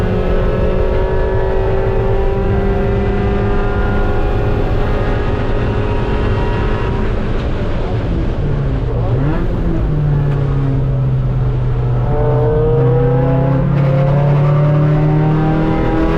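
A race car laps the Mid-Ohio circuit, its engine droning loud and steady from onboard, rising and falling in pitch as it accelerates out of corners and shifts gears.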